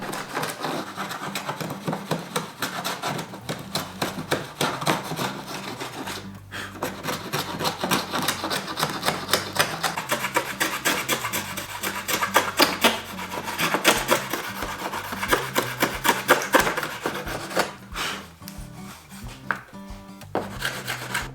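Hand plane shaving wood in small careful passes while shaping the curved chest piece of a wooden Gundam figure; steady repeated rasping strokes, close and fairly loud, with no talking.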